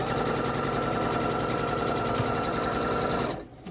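A sewing machine runs steadily along a quilt seam for a few seconds, a loud, even mechanical whir that stops abruptly near the end, with no talking.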